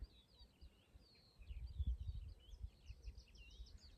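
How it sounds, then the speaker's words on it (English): Birds chirp faintly outdoors in a quiet spot, thin high calls repeating in the distance while low rumbling wind or handling noise comes and goes underneath. "can't hear anything other than the birds"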